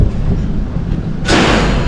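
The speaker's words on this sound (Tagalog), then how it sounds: "Yung gate namin sa likod mahampas." A back gate slams in strong wind during a typhoon, a single loud, sharp bang that breaks through steady wind noise partway through, with no voices.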